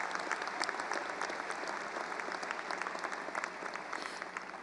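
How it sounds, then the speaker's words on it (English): High school graduation crowd applauding at a ceremony, sustained clapping from a large audience with crisp individual claps standing out, heard at moderate volume from a distance in a big hall. "that deserves a round of applause."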